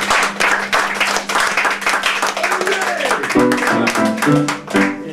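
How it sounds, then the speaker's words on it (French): Audience clapping at a local celebration, rhythmic applause that runs under a few tonal sounds and voices, fairly loud and steady before thinning toward the end. "Et on peut l'applaudir pour ça déjà aussi."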